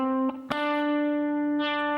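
Electric guitar with effects playing a major-scale run beginning on D, a few picked notes followed by a long sustained tone, distorted and close with no talking.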